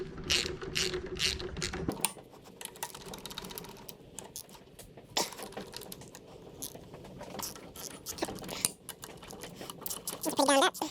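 A ratchet wrench turns out three Torx bolts on a Type 4 engine during disassembly, with steady close clicking bursts broken by short pauses and a few metallic knocks.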